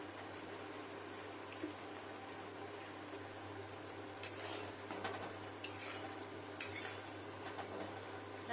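Gulab jamun fry in a pan until red, a faint low sizzle under a steady hum, with occasional clinks and scrapes of a utensil against the pan and no voices.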